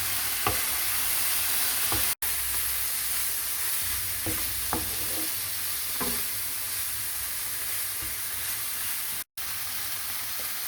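Mutton curry with cumin and garam masala being stirred and fried in a pan, a continuous hiss and sizzle broken by a few scraping stirs and clinks, close and alone without talk.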